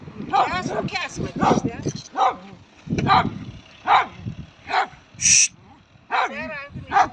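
Dogs bark and yip in short bursts nearby in a village in Uşak, Turkey, during goose cleaning, mixed with people talking over them.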